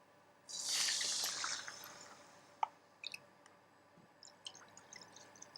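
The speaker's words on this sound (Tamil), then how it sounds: "இந்த தண்ணியோடு சேர்த்து அதை அளந்து ஊற்றுறேன்." Rasgulla syrup pours into water in a home kitchen while making custard halwa, a close splashing gush lasting about two seconds, followed by scattered drips and small clinks.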